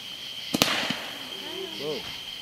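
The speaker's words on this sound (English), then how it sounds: "Big fireworks, too." Summer fireworks going off outdoors: a pair of sharp close bangs followed by crackling and whistling trails, with people talking and calling out over them.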